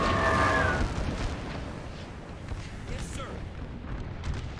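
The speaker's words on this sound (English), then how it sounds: "Oh, that artillery is still doing some execution." Artillery fire in Napoleon Total War with the American Civil War mod at Gettysburg, heard as distant booms rumbling under a continuous battle din, with someone talking over it throughout.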